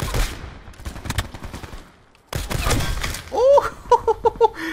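Bursts of gunfire from the Black Ops 4 video game crack out in rapid volleys, loud and close, with a pause midway before more shots and a sequence of sharp tonal game beeps near the end.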